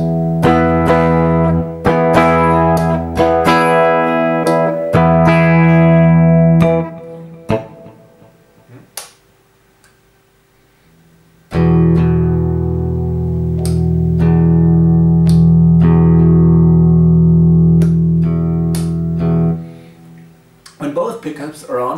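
Telecaster electric guitar on its bridge pickup with the tapped coils engaged, sounding bright, sustained chords and picked notes up close, broken by a pause where someone speaks briefly before playing resumes.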